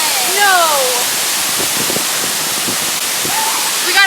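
A waterfall's constant roaring hiss fills the clip, with brief whistle-like tones near the start and end and some soft talk mixed in beneath the steady rush.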